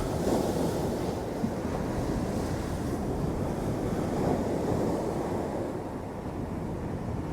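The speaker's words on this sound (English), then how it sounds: "There's a few bum puckering waves coming in now." Rough-weather surf pounds a shingle beach at Clacton, a dense continuous roar of breaking waves with wind buffeting the microphone and no voices.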